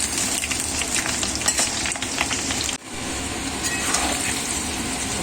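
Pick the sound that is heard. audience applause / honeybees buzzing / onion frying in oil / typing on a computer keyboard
onion frying in oil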